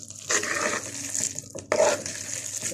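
Chopped vegetables and onion for an eggah being stirred and turned in a bowl, giving two close bursts of scraping, rustling mixing with a short pause between, no talk.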